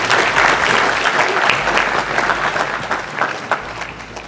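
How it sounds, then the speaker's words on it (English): Audience at a business show event applauding after a speech, loud, dense clapping that swells at first and then gradually tapers off, with no talking over it. "give yourselves a round of applause"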